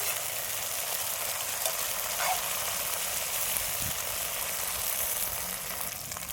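Ginger and garlic sautéing in a pan, a steady close sizzle with broadband hiss running the whole time and a few faint clicks, no voices.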